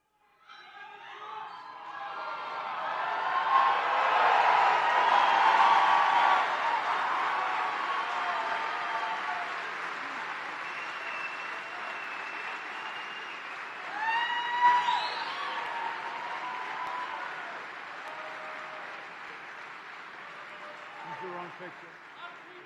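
Rally crowd at a Donald Trump event in Juneau cheering and applauding, a broad swelling roar of claps and shouts that rises, holds for a long stretch, then thins with scattered whoops.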